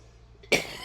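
A single sudden cough bursts out near the microphone after a quiet room tone, then fades into a breathy tail.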